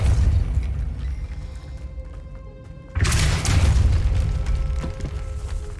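A Depulso spell effect in the Hogwarts Legacy video game sounds as a sudden magical burst with a heavy boom partway through, over a rumbling ambient game background.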